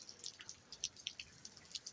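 Rainwater from a tropical storm dripping, faint and close. Small irregular drops tap at an uneven rhythm over a quiet background, with no voices.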